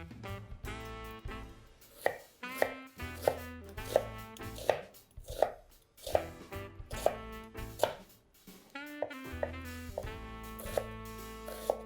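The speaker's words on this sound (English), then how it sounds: "I'm going to dice an onion and 1 stalk of celery" A knife dices onion and a stalk of celery on a cutting board in evenly spaced, crisp chops, close and clear over soft background music.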